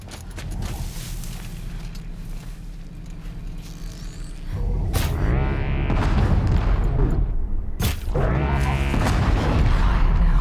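Cannon fire in the video game Horizon Zero Dawn: two heavy booms a few seconds apart, each a sharp loud blast followed by a long rumbling tail over steady game ambience.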